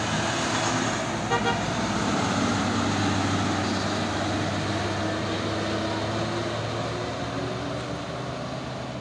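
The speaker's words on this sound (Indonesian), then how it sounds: "Masuk lagi truk Puso 6x4." A Puso 6x4 truck rolls by on a busy road, its engine drone steady and close over traffic noise, with a horn toot near the start.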